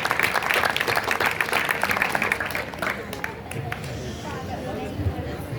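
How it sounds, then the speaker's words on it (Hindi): Steady applause from a crowd at a school ceremony fills the clip, gradually thinning toward the end as murmuring voices continue underneath. "तो आइए हम सब मिलकर जोरदार तालियों की गड़गड़ाहट के साथ"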